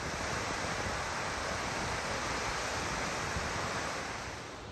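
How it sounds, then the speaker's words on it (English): Constant broad rushing roar of a large snowmelt-fed waterfall, steady and unbroken, easing slightly at the end. "A giant waterfall is coming from all that snow up there."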